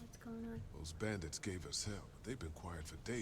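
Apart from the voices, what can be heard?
No distinct noise like a dog, phone or traffic.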